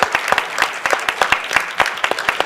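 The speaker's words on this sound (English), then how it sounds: "let's have a round of applause" An audience at a school African American History Month assembly claps together in a steady, dense burst of applause, close and fairly loud, with no talking over it.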